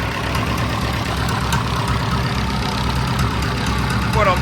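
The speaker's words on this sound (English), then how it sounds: "We're about to go and bench test the engine." VETUS marine engine running steadily on a bench test outdoors, a continuous rumbling idle with close mechanical chatter and a brief voice near the end.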